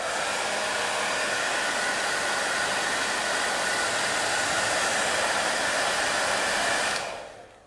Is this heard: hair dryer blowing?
yes